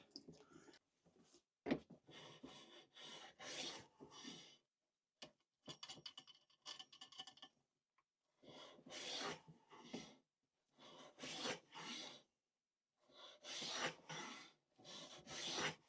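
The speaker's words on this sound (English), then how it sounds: "It's not even cutting it. It's just rubbing it. It's just basically scraping the wood." Wood being scraped and rubbed while restoring a cheap wooden hand plane on hardwood, heard as repeated rasping strokes in bursts separated by short pauses, fairly close and alone.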